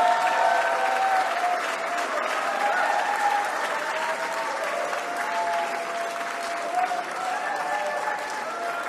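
An audience at a political speech to the French community in Montreal breaks into steady applause, a dense, even wash of many hands clapping that holds at a moderate level throughout.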